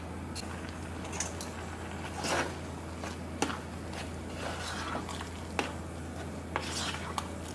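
Oats are mixed in a pot with soft scraping and rubbing strokes and occasional light clinks, close and quiet over a steady low hum.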